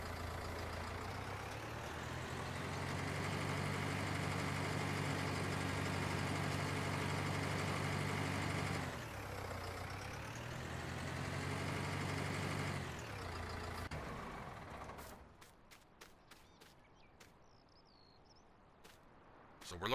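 A tractor engine in Farming Simulator 19 drones steadily at close range with a low, even hum for most of the stretch, then drops away into quieter, sparse sounds with a few sharp clicks near the end.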